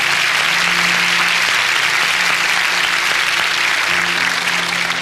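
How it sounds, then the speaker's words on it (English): An audience gives a round of applause at a motivational talk featuring Les Brown, steady dense clapping that fills the whole stretch at a strong level, with a faint low hum running underneath. "Why don't you give Lenore a round of applause, please?"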